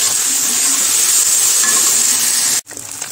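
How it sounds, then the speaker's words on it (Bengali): Potato, onion, carrot, tomato and green chilli frying in hot oil, a loud steady sizzle with stirring that cuts off abruptly near the end. "তেলের উপর একটু ভেজে নিতেছি ভালোভাবে, যাতে সবজিটা ভালোভাবে সেদ্ধ হয়ে যায়।"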